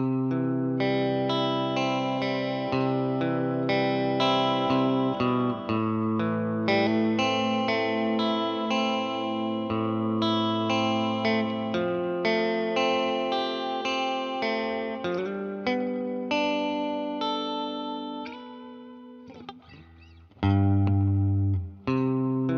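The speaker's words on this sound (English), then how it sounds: "And here's with the reverb pedal engaged." An electric guitar runs through a Tweed tube amp with a Purdy Tube Amps reverb pedal engaged, playing a continuous passage of chords and notes with a washy, lingering tail, and a short spoken moment near the end.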